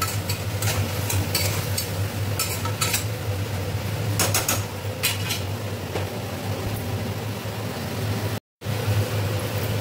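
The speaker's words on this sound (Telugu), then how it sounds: "బాగా టమాటా పచ్చి వాసన పోయే వరకు వేగనివ్వాలి" Tomato masala frying in a pan while a spoon stirs it, a steady sizzle with repeated scraping clinks that ease off toward the end.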